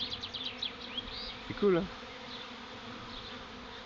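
A honeybee swarm arriving at a hive hums in a steady insect buzz, with individual bees whizzing close past. A person speaks briefly over it.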